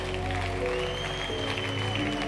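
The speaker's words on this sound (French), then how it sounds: "Applaudissons pour le roi de rois." A church congregation at a prayer marathon applauds steadily throughout, a dense wash of clapping layered over sustained musical tones.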